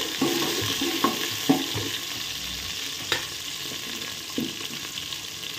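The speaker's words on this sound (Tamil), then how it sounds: "நம்ம ஒரு 10-15 பூண்டு வந்து போடுவோம். போட்டு வதக்கிட்டு" Ten to fifteen garlic cloves sautéing in a pan with softening onions, a constant close sizzle broken by occasional clacks and scrapes of a stirring spoon.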